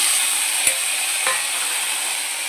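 Tomato goes into a pan of fried okra, and a steady bright sizzle follows, broken by a couple of sharp stirring knocks against the pan.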